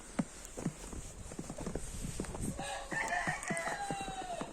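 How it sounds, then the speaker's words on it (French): Roosters crow among Cayenne hens and a laying hen in a backyard poultry yard, one long crow rising over soft clucking and scattered scratching at moderate distance. "encore quelques coqs là avec des poules cayennes et une poule pondeuse"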